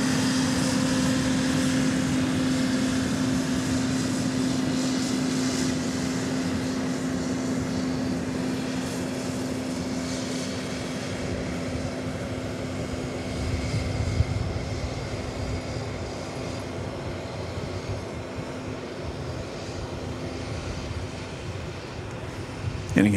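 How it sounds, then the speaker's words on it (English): A Southwest Boeing 737-800 arriving from Long Beach lands on the east side of Dallas Love Field, its steady engine roar spread across the whole stretch with a low hum beneath, while a voice talks over it. "Southwest flight 4330, the 737-800 arriving from Long Beach,"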